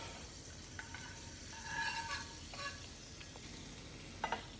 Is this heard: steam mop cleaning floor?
no